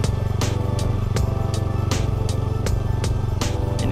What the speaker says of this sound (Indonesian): Kita naik motor